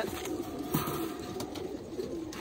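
Firozpuri pigeons, a mated pair, coo softly. Low, quiet coos sit over steady background noise.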